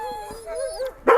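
A Yakutian laika, an aboriginal hunting dog, gives a few whining, yelping vocalizations that end in one sharp, louder bark, close by with no talking.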